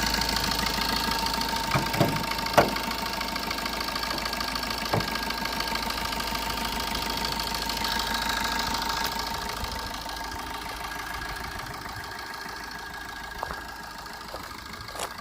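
A 2013 Maruti Swift Dzire idling with a steady, low mechanical hum and a few sharp clicks or taps. The engine is close and runs evenly at moderate volume, fading slightly toward the end.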